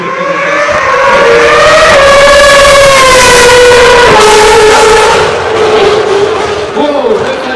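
A Formula 1 car screams past on the straight at Paul Ricard, its engine note loud and close, rising then dropping in pitch with a downshifting whine as it brakes hard.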